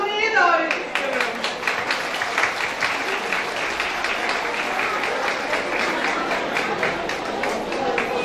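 A crowd at a volunteers' gathering applauds as women are invited onstage. A voice briefly trails off at the start before loud, steady clapping fills the room, staying close and sustained to the end.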